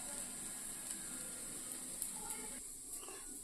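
Wheat dosa sizzling on a hot pan, a faint, even crackle close by that thins out near the end.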